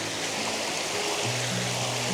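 Creek water rushes over cascades below a waterfall at Rock Island State Park, Tennessee, heard up close from low in the stream as a dense, constant roar with a faint burbling tone underneath.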